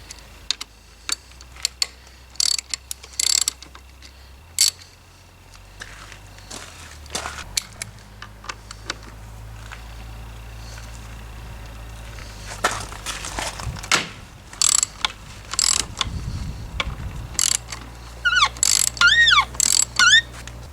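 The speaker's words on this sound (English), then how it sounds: "So I'm going to loosen these bolts" A ratchet wrench loosens the handlebar bolts during a hand guard install on a Honda Africa Twin CRF1000L: bursts of quick, clicking pawl ticks close up, separated by pauses and small metallic clinks, with no talking.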